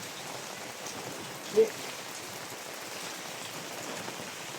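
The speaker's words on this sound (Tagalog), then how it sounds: "Uulan na ngayon. Aray ko! Ulan!" Steady rain near the sea patters softly and evenly, a faint continuous hiss of drops with one brief small knock partway through.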